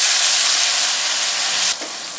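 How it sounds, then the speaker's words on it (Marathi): A chili, coriander and garlic paste with curry leaves fries in hot oil in a pan, a loud close sizzle that drops abruptly in level near the end, with no voices. "आता याला 1-2 मिनिट चांगलं फ्राय होऊ देऊ"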